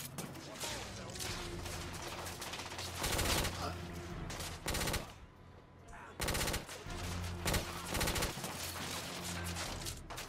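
Rapid, heavy shotgun blasts loaded with dragon's breath incendiary shells in The Order: 1886, fired in dense volleys with brief lulls between bursts, loud and close, with one short spoken exclamation.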